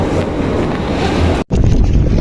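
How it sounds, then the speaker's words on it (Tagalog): Strong wind roars and buffets a microphone in loud, steady gusts outdoors in Japan, broken by a brief moment of silence partway through. "Ang lakas nga lang ng hangin."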